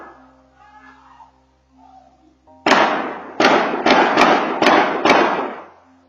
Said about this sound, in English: The following is a video where you can hear the shots fired that night. There are 2 initial shots followed by 6 shots.